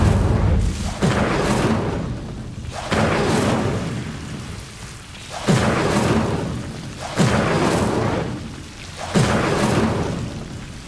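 Repeated fiery bursts of an Incendio spell in Hogwarts Legacy, aimed at Devil's Snare in a dark place, each a loud whooshing boom swelling then fading, about five in steady succession with no talk.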